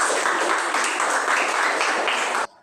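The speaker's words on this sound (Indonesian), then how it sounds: "Tepuk tangan untuk semua." Applause from a class of students in a classroom, steady dense clapping sustained for a couple of seconds, fairly loud and close, then breaking off abruptly.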